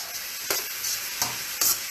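Beef stir fry sizzling steadily in a hot pan, with three short bursts of scraping and hiss as the meat and vegetables are stirred, close and fairly loud, no voices.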